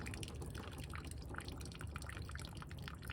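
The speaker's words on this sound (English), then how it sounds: "Just dump water on there, trickle it on, get it hot." Boiling water trickled and dumped onto a plastic car bumper to heat a pushed-in dent, a steady close splashing and dripping pour that runs unbroken throughout.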